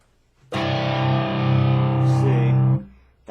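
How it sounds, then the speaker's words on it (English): A single sustained electric guitar chord rings out with a light, gritty overdrive, held for about two seconds before cutting off. "that's the light distortion that I have on."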